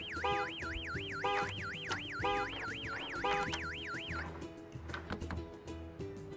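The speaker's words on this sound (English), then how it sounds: "Nope, car alarm." A car alarm in the video game Gas Station Simulator wails in repeated rising-and-falling whoops that stop partway through, followed by faint clunks and thuds.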